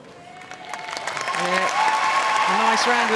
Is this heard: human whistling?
no